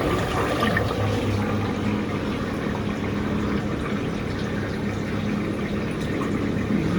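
Glass of water poured into a pot of mutton nihari, a steady continuous rush of liquid close by with no pause throughout.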